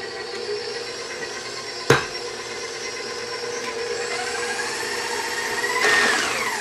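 An electric mixer whirs steadily through gluten-free hot cross bun batter, a constant mechanical drone with a sharp knock near the start and a louder surge toward the end, with no talking.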